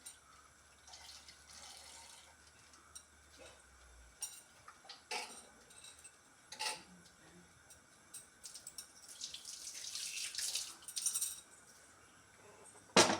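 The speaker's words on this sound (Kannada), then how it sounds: "ಹಾಗೆ ಮಿಕ್ಸಿಗೆ ಸ್ವಲ್ಪ ನೀರು ಆ್ಯಡ್ ಮಾಡಿ" Water being poured into a mixer grinder jar holding roasted peanuts for a muddu huli curry, a soft splashing pour among faint clinks in a quiet kitchen.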